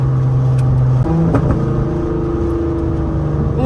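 A borrowed car's engine roars loudly nearby, its pitch holding and then shifting as the driver revs. The drone is steady and dense, with no voices over it.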